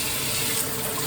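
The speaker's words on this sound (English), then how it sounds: "we're going to just let" Tap water runs steadily into a kitchen sink while cooking palak paneer, a continuous broadband hiss and splash heard close up with no talking.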